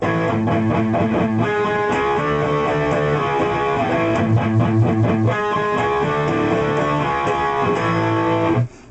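Distorted electric guitar chords ring out continuously for several seconds, loud and thick, changing chord partway through before cutting off abruptly.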